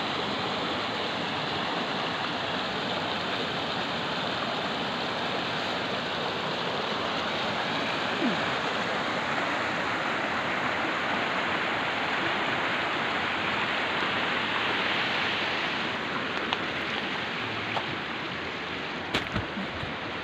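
Water flows steadily along a creek bed on an upper stream near Çüngüş, Diyarbakır, in spring. A dense, unbroken rushing wash holds close and fairly loud for the whole stretch, with no voices.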